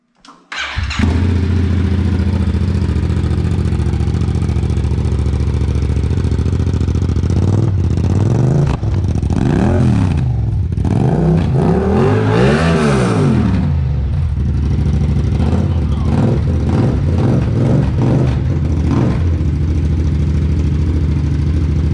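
A 2017 Yamaha FZ-07 motorcycle fitted with an Akrapovic titanium and carbon fiber exhaust starts up and settles into a loud idle, then revs in several rising and falling blips before idling on, close and alone.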